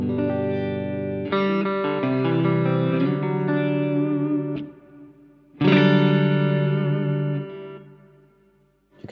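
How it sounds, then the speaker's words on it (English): An electric guitar played through a Walrus Audio Slö Reverb pedal rings out in two strummed chords, each swelling into a long, lush, shimmering wash of reverb that slowly decays toward silence, heard alone without talk. "now for the Slö Reverb."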